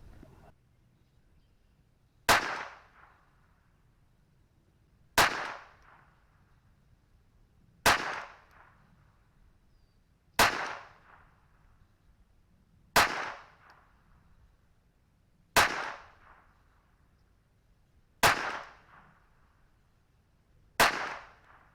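Eight evenly spaced .22LR pistol shots from a Taurus TX22 firing CCI Blazer 38-grain ammunition, each a sharp loud crack with a brief decaying tail, about every two and a half seconds, no talking.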